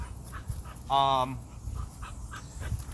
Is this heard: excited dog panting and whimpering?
yes